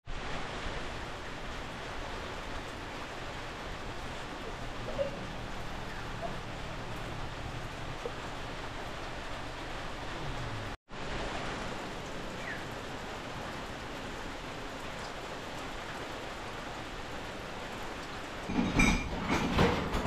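Light night drizzle falling outdoors, a steady soft hiss that cuts out for an instant midway, with a few louder clattering knocks near the end.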